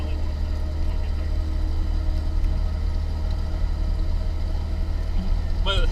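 A 1948 Jeep CJ-2A climbs a hill, its engine a steady low drone that holds at an even level throughout, with faint wind and cabin rumble.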